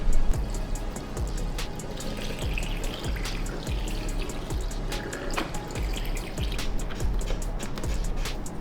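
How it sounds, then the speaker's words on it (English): Coolant pours into a Beta motorcycle radiator, a continuous close liquid trickle and splash with faint ticking under it and no talk. "Last thing we need to do is add the coolant back in."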